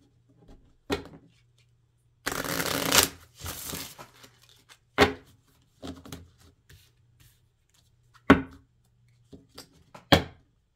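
Tarot cards are shuffled and handled in short, separate bursts. One longer riffling flurry is followed by isolated sharp snaps and slaps of cards, close and quiet, with no talk.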